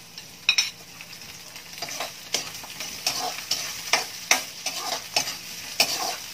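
Onion and tomato frying in a pan, stirred with a utensil: a steady sizzle broken by repeated scraping clacks, faint and close, with no voices.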